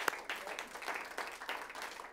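Faint, distant applause from a studio audience at a comedy show's winners announcement, a short patter of clapping lasting about two seconds at low volume.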